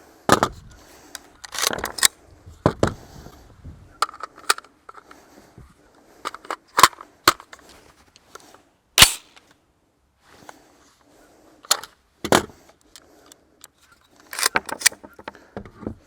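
An AR-15 rifle's action is worked by hand to load and cycle the same round, giving scattered sharp metallic clacks and clicks separated by quiet gaps, close and fairly crisp.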